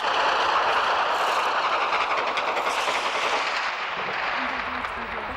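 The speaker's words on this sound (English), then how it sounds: "They shoot all the time." Gunfire and shelling in wartime Bosnia make a continuous loud roar of sustained fire and rumbling blasts, dense and close, easing slightly toward the end.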